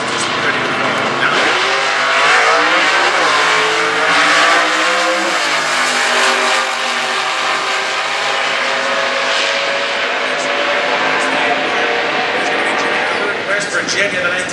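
A 1971 Mustang drag car with a 385 Series 429 cubic inch big block roars loudly and steadily, its pitch sweeping upward as it launches, with a commentator talking over it throughout.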